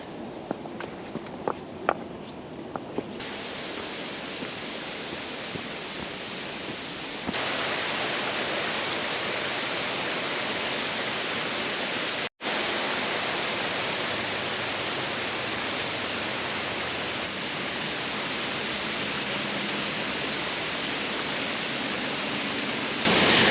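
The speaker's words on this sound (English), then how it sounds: "there's a waterfall right behind me" A waterfall on the Cape Horn Loop Trail in the Columbia River Gorge gives a steady, dense roar, with faint footsteps early on.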